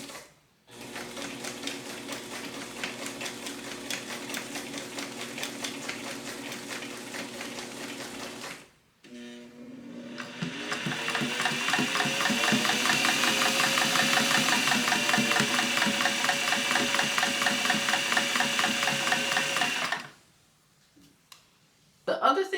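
Vintage Imdeco and Singer sewing machines running one after the other, each a steady mechanical whirring hum with rapid rhythmic ticking, the second louder and busier, close by with no talk.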